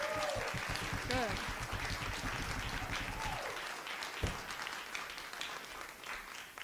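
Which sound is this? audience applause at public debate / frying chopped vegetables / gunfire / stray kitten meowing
audience applause at public debate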